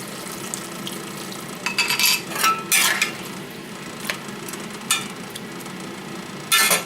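Pepper steak with meat and busted-apart onions being stirred in a pan as gravy goes in: soft scraping and clinking of a utensil against the pan, with a few louder bursts of stirring over a low background hiss.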